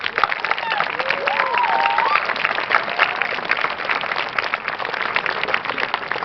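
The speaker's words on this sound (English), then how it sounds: "Please give everybody a round of applause." An audience claps steadily at the Mahar Regional School class of 2019 graduation ceremony in Orange, Massachusetts. Dense applause runs throughout, with faint voices and a few whoops rising above it.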